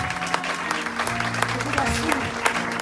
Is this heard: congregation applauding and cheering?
yes